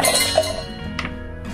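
Garlic cloves drop into a mixer grinder jar while garlic-coconut chutney is being made, giving a few quick, light clinks up close, with nothing else around them.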